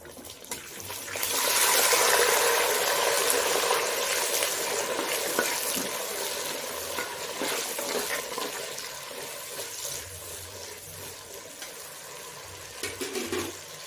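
Small onions sautéing in a pan for sardine curry hiss and sizzle loudly and steadily close by, easing slightly over time with a few faint clinks near the end.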